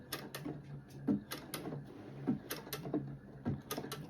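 Sewing machine zigzag-stitching a patch onto a denim jean jacket, pivoting around the patch edge: close, uneven mechanical clatter in short bursts, with sharp ticks and pauses between runs of stitching.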